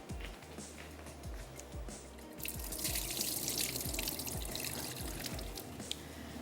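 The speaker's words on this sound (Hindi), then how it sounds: "तो मैं इसका पानी गिरा के इसको ऐड कर देती हूँ।" Soaking water drains from sella rice being prepared for biryani, a continuous splashing trickle with scattered drips and low thuds, growing a little fuller partway through, close and with no talking.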